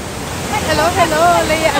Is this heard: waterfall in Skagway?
yes